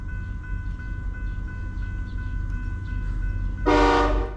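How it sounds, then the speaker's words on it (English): CT Rail train 6822, led by locomotive 6698, rumbles steadily past in Norwalk, Connecticut, near and loud. A sharp horn blast sounds near the end. "CT Rail 6698 leads train 6822 in harsh lighting past the Candlewood Fencing Academy in Norwalk, Connecticut."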